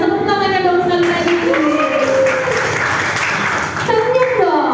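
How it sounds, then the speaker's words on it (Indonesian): An audience applauds steadily through a busy room, with an MC's amplified voice talking loudly over the clapping at an Indonesian event. "Tepuk tangannya dong sekali lagi."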